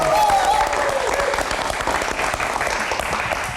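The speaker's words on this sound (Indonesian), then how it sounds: "Mas Fitra, tepuk tangan yang paling meriah dong." Applause from a live studio audience at an Indonesian talk-show taping, a dense, steady burst of clapping that holds loud for the full length with crowd noise and a brief voice at the start.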